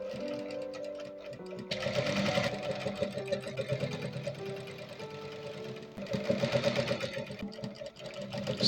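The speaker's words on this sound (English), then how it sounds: "just watch me as I sew" A sewing machine stitches along the edge of a see-through transparent bustier, running in steady mechanical bursts with a rhythmic ticking whir, pausing briefly between runs, up close.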